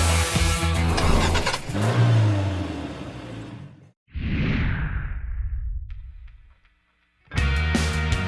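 Sports cars, a BMW i8, Mercedes-AMG GT S and Jaguar F-Type R, roar and accelerate hard along a big empty runway in Putrajaya, loud engine surges sweeping past, then a short whooshing pass, a near-silent gap and a sudden loud return.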